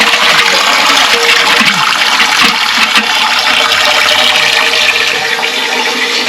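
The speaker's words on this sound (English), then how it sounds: "We'll flush it a couple of times." A downstairs toilet flushes with a loud, close gush of rushing water that keeps running steadily for several seconds as the cistern drains and refills, with no talking.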